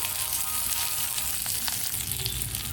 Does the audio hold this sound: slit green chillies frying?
yes